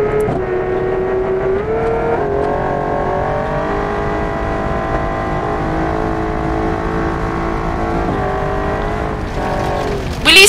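Engine of a car in a racing video game, revving and accelerating at high speed, a loud sustained whine with shifting tones that drops briefly between gears before surging again near the end.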